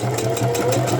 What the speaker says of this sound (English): I'm going to take this over to the sewing machine